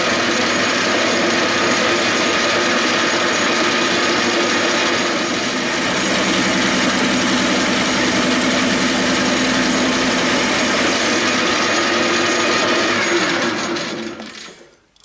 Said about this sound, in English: Poor little machine, it's not used to work that hard.